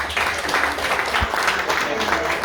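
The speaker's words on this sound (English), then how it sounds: "so a big round of applause for them" At a community leaders' luncheon, an audience applauds a group of young girls with steady, full clapping from many people. A brief low thump lands midway, and faint voices sit under the applause.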